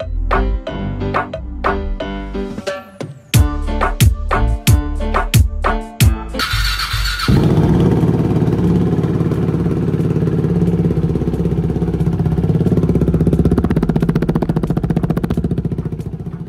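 A motorcycle fitted with an aftermarket exhaust and a modified fuel-injection throttle body is revved in a garage: a run of sharp throttle blips, then a steady, loud, sustained roar.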